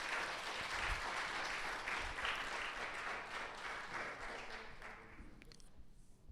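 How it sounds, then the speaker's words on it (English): An audience at a senior celebration event breaks into sustained applause, dense clapping that holds steady and then tapers off toward the end. "Let's all give them a round of applause,"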